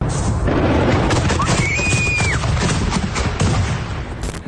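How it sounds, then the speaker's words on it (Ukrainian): Repeated loud bangs and crackling bursts of cluster munition submunitions exploding, one after another in a dense, rumbling barrage, with a whistling tone rising and falling midway. "Так вибухають боєприпаси касетної бойової частини."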